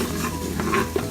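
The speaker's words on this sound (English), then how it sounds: "and saute it" Chopped green onion and a garlic clove sauté in a Power Pressure Cooker XL pot, a brief close sizzle with the scrape and clink of a stirring utensil.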